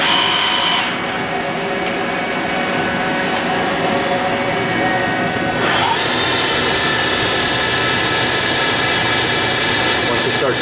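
A Sunnen SV-1015-S1 precision vertical honing machine with servo rotary table runs with a continuous loud mechanical grinding drone, shifting and rising partway through as it picks up speed.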